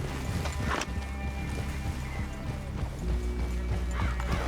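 Horses in Red Dead Redemption 2, loud clattering hooves with a neigh rising over dense game noise and low rumble, all continuous and close.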